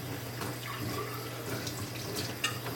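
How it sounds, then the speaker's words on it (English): Running water from a tap rinses winemaking equipment, a steady close splashing stream with a small clatter near the end, and no talking. "And I'll just give this all a rinse."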